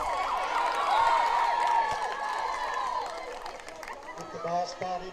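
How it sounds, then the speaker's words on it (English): Wailing siren during a high school football game, rising and falling tones rolling across the field over crowd noise, with a commentator talking underneath. "I was hearing the siren and thought that was the quarter"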